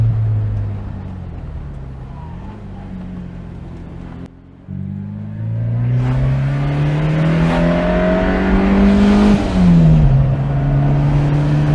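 A Fiat X1/9 sports car engine revs up loudly, dropping briefly before climbing again to a high, strained whine near 5,000 rpm and settling back down.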